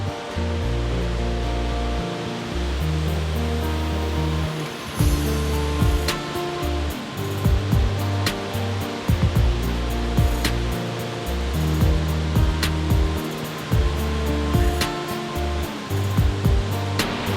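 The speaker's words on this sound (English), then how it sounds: "We must unfortunately say goodbye to waterfall." A waterfall roars as a dense, constant rush of falling water, loud and close. Deeper thuds and tones break through the rushing now and then.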